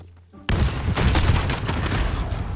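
Loud, close bursts of gunfire in Call of Duty: Modern Warfare, with a sudden heavy volley after a quiet moment, then continuous rapid shots and sharp impacts filling the rest.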